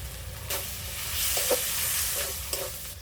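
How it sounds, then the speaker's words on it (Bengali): Ground turmeric, cumin, coriander and chilli powder frying in a pan with a little water, a continuous sizzle with the repeated scrape of a spoon stirring, close and moderately loud. "মশলাটা ভালো করে কষিয়ে নেব"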